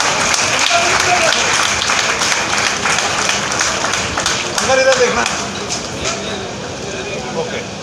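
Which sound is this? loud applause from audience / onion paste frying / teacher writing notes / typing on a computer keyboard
loud applause from audience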